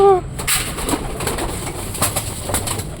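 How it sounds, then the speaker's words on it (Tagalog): Racing pigeons out for training coo briefly at the start amid a noisy outdoor bustle of rustling, wing flutter and knocks. "Training tayo ng ibon ngayon."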